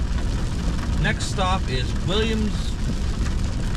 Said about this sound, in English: we are back on the road, and look, it's raining